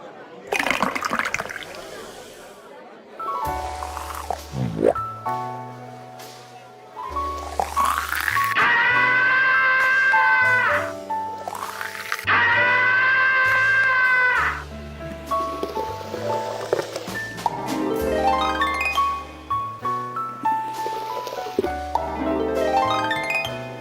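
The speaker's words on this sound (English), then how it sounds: "Obviously you're trying to pour the perfect beer to the point indicated there, utilising the crank" Root beer pours from a crank-operated tap in a Playdate video game, with gurgling, rising liquid tones and electronic game blips and music in several bursts; no talking.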